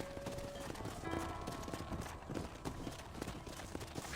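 Horse hooves clip-clop at a steady trot in the Red Dead Redemption video game, a rhythmic patter running throughout beneath dense, loud ambient game noise.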